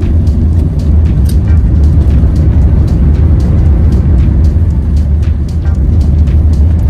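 A BYD Dolphin electric hatchback drives on a race track, giving a loud, steady low rumble of road and wind noise that stays even throughout with no engine note and no talking.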